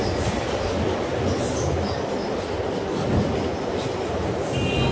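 A local train in Assam, running between Pancharatna and New Bongaigaon, comes off a bridge with a loud, continuous rumble of wheels on rails and a faint high wheel squeal near the end.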